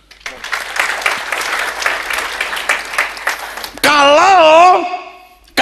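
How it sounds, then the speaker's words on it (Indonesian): Dense applause from a church congregation during a sermon, steady clapping filling the first few seconds before a sustained tonal sound cuts in and takes over. "Tepuk tangan."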